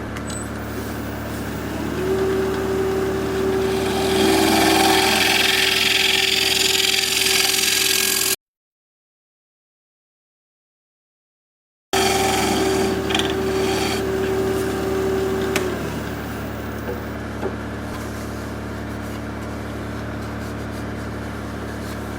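Scraping tool works the inside of a thin-bottomed wooden bowl on a spinning wood lathe, giving a rasping, whirring scrape over the motor hum, broken off by a short silent gap before resuming.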